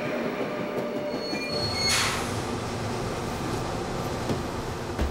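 A passenger train rolls steadily along the rails in a continuous close rumble, with a brief bright squeal of wheels on the track near the two-second mark and faint clatter throughout, no voices present.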